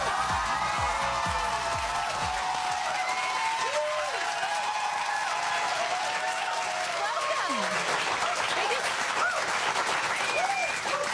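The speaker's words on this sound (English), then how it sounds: "Let them finish their applause." Studio audience applause greeting a guest on a talk show, loud and sustained clapping with some cheering that continues the whole time while voices speak over it.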